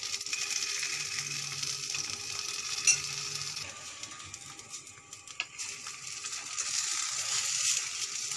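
A sandwich fries in a pan over a low flame, making a soft, steady sizzle with faint scraping, quiet and close, with no voices.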